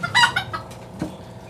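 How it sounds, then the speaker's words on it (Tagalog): A short-legged, yellow-legged chabo bantam hen gives a few quick, close clucks in a brief burst, with no other sound competing. "Isa siyang hen, short-legged, then yellow din siya, yellow-legged na chabo."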